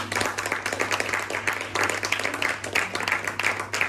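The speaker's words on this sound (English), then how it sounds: "Give them a round of applause, please." Audience applause at a comedy hypnotist show on a pier, a dense, steady wash of many hands clapping for nearly four seconds over a low constant hum, no voices.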